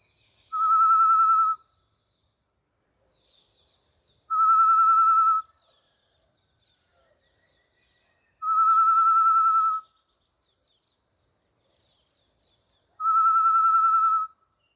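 Four long, clear, steady whistled tones mimic a macuco's perch call on a bird call whistle, each lasting about a second and evenly spaced by roughly four-second silent gaps, close and loud against a quiet background.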